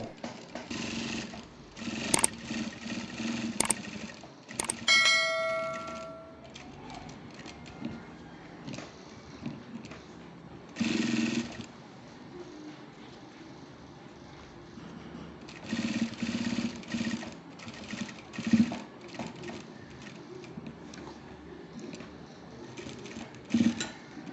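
Sewing machine stitching a double cuff onto a shirt, running in repeated bursts of motor whir with brief pauses and a few sharp clicks near the start, fairly close and alone without talk.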